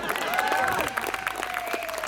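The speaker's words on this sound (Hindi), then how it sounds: "प्लीज जोरदार तालियां मेरे लिए।" Applause from the audience at a Diwali night stand-up comedy show, a steady wash of clapping with a few brief voices mixed in, fairly even throughout the short stretch.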